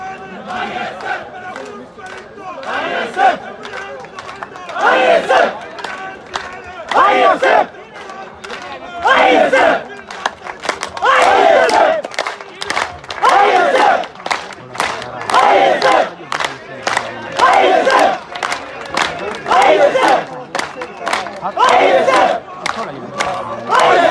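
Large crowd of party workers at a political rally in the Chief Minister's House in Peshawar chants slogans in loud, rhythmic bursts, call-and-response style, repeated steadily with short pauses between shouts.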